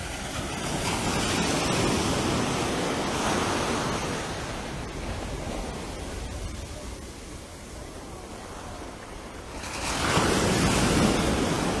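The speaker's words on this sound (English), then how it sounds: "What you're hearing is those waves are hidden up underneath those shelf cliffs here that we're seeing." Deep, rushing surf rolls and booms steadily beneath shelf cliffs in Barbados, then swells louder near the end as another wave surges in; no voices.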